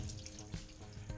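Triton T80 Pro-Fit electric shower, leaking near the hose, runs with a steady close hiss of spraying water, brief and continuous with faint splashes and no talk.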